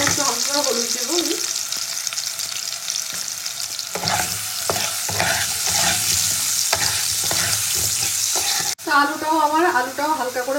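Potatoes sizzle steadily in oil with turmeric added, with repeated stirring scrapes and clinks throughout and a brief break near the end; a voice speaks quietly over parts of it.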